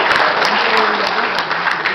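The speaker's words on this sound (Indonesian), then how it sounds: "Tepuk tangan untuk ketua umum Bang Haji Lulung." Dense applause from a large crowd at a Betawi youth forum event, loud and sustained throughout with steady clapping and no pauses.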